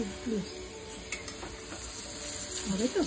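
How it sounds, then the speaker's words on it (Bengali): Potatoes fry in a pan with a moderate, continuous sizzle, with occasional scraping and stirring clatter of a utensil against the pan. "আলু ভাজা হচ্ছে,"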